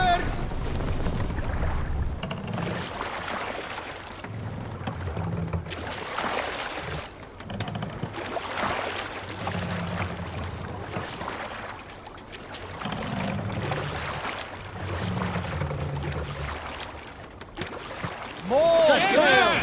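A Viking longship sails through open water in Assassin's Creed Valhalla, with a steady rush of waves and wind and rhythmic splashing, while crew voices shout over it throughout.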